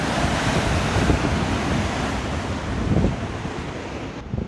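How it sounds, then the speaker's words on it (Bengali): Sea waves heard from Aguada Jail in Goa, a constant surging roar of surf mixed with wind buffeting the microphone, broad and steady throughout. "এই যে সমুদ্রের আওয়াজ শুনতে পাচ্ছে,"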